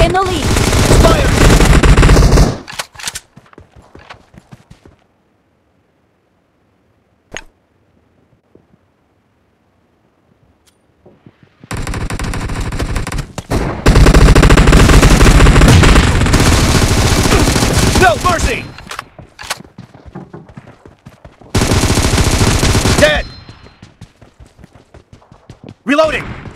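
Bursts of loud automatic gunfire from a team deathmatch in a multiplayer shooter come in several long rattling volleys, broken by near-silent gaps and softer clicks, with game voice callouts.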